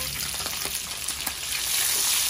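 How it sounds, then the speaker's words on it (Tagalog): Garlic sautéing in a hot pan for ginisa with pork, a dense continuous sizzle that swells slightly toward the end, with a few faint stirring taps and no voices. "Simulan na natin ang paggigisa. Bawang,"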